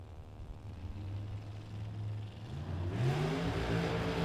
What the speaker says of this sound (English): Let's do that again with the burnout.